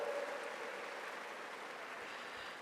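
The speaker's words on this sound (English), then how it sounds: "A big round of applause for Vinit Ranawat Bhaiya" Faint, distant audience applause at an international youth kindness conference, a steady wash of many hands clapping with no distinct individual claps, holding evenly throughout.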